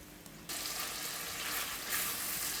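Paneer toofani cooking in a pan, a steady hissing sizzle that suddenly grows louder after a moment and keeps a continuous crackling frying texture, close and with no talk.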